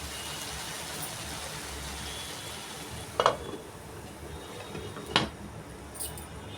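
Eggplant for a coconut fry cooks in a covered pan with a low, constant sizzling hiss, broken by two or three soft pops and spatters.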